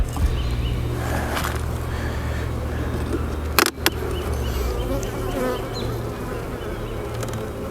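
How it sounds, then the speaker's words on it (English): Honeybees swarm and buzz loudly around an opened three-box hive during an inspection, a dense steady drone throughout with a brief sharp knock midway. "Yeah, these bees are making me"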